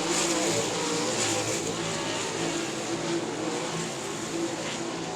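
Race cars roar around the South Texas Speedway oval, a loud continuous engine drone with shifting pitch as the field rushes down the front stretch into turn one, no talk over it.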